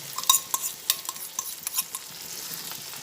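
Jackfruit curry with whisked yogurt is stirred in a pan, with repeated scraping taps of a spoon against metal over a faint, steady sizzle.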